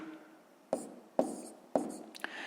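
Numbers are written out while a fifth-grade math exercise is solved: three distinct pen-on-paper strokes land about half a second apart, close and quiet, followed by a fainter fourth tap.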